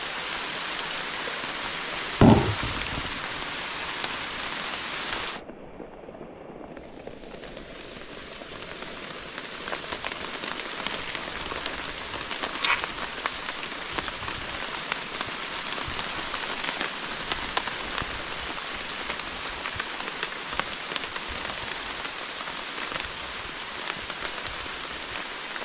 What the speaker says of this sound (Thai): ฝนบ่เซาตกเลย